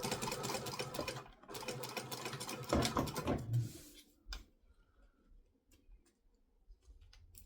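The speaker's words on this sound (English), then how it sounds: "This time I have caught everything with the second line of stitching" A sewing machine runs a second line of stitching on a handmade phone sling, a rapid rhythmic mechanical ticking for about four seconds that then stops, leaving faint scattered clicks.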